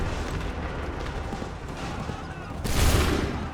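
Musket volley fire in Assassin's Creed III Remastered, a dense rumbling crackle of shots under battlefield noise, swelling into a louder burst near the end.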